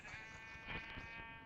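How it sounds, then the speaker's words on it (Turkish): A Minecraft sheep bleats once, a wavering, nasal baa heard up close over faint background noise. "Burada koyun var."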